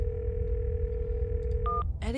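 A telephone in a horror adventure game: a steady dial tone hums throughout, then a short burst of keypad tones near the end, with a faint voice entering at the close.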